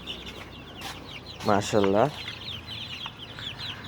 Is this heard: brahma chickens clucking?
yes